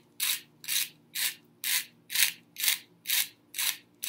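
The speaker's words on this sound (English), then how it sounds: "So I've got salt here. And gonna grind it up." Salt ground in a hand salt grinder while cooking: nine evenly spaced gritty grinding strokes, close and crisp, each a short rasping twist separated by brief silence, with no talking.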